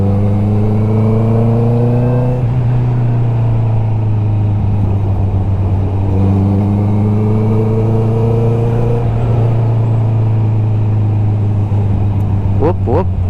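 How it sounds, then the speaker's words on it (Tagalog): A car engine and exhaust rev up repeatedly, the deep drone rising in pitch in waves, loud and near, with a few faint sharp sounds near the end. "Balik tayo sa tunog ng tambutso niya, kung bakit ang sarap niya i-drive."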